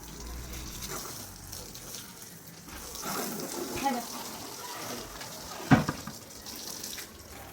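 Water poured from a bucket while washing a car, a soft continuous splash and wash with a sharper splash near the end, fairly faint, with voices faintly present.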